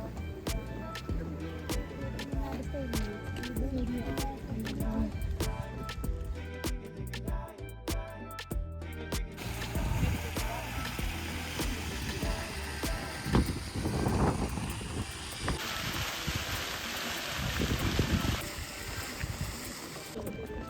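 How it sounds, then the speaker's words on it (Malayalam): A boat arrives on a river near the Bastei hiking area in Saxon Switzerland, Germany. A steady broadband engine and water rumble runs continuously at moderate distance, with no talk over it. "ഒരു ബോട്ട് വന്നിട്ടുണ്ട് ഗൈസ്."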